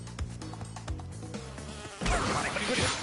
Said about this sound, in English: Dang it! I knew a bee was coming.